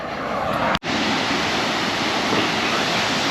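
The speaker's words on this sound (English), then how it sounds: "there's a beautiful waterfall, so we're just gonna have a bit of a wander over and check out the waterfall" A waterfall in a back garden pours with a loud, constant broadband roar, close and continuous, broken only by a very brief dropout partway through.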